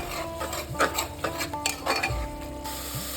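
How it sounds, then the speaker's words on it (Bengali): Masala spices and onion with a little sugar being stirred and fried for mutton curry, a steady sizzle broken by repeated scraping clinks of a utensil against the pan, close and clear. "এবার ভালোভাবে মশলাটা কষিয়ে নেব"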